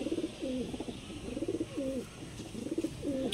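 Pigeons coo in a home loft, with repeated rolling coos in a steady rhythm, several phrases about a second apart, close and clear over a light background hiss.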